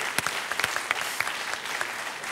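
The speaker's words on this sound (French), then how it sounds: "Mais on vous applaudit, Robert" Studio audience applause on a French TV game show, a steady even wash of clapping with scattered sharper claps standing out, moderately loud and with no talk over it.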